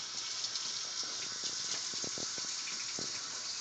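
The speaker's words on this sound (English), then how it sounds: "Rinse it off." Water runs steadily from a tap while shaving cream is rinsed off a face, a continuous close splashing stream with small spatter bursts and no talk.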